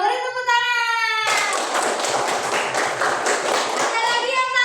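Schoolchildren in an Indonesian classroom break into rhythmic clapping after a classmate answers correctly, a brief sung chant first, then a loud burst of quick, patterned hand claps that taper off.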